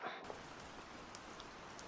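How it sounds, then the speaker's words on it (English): Steady rain hisses evenly in a video game, a soft, continuous wash with a few faint droplet ticks and no voices. "And it's raining, yay."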